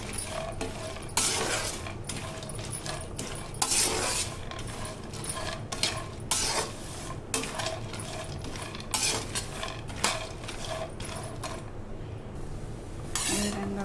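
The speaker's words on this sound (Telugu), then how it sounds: "నెయ్యి వేసుకొని అందులో కాజు వేసుకున్నాను ఈ కాజు గోల్డెన్ బ్రౌన్ కలర్ వచ్చేంత వరకు వేయించుకోవాలి" Cashews fry in ghee in a kadai while a metal spoon stirs them, producing repeated scraping clinks and clanks in an irregular rhythm over a low, steady frying hiss.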